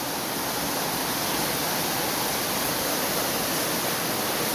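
Heavy rain pours down in San Luis, Pampanga, a loud, dense and steady hiss that fills the whole stretch without a break and with no voices.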